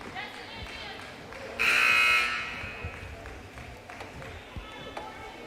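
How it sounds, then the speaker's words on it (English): A loud electronic shot clock buzzer blares for about half a second at a women's NAIA college basketball game between Central Christian and SAGU, over gym crowd noise, squeaking shoes and commentary. "That's right at the buzzer of the shot clock."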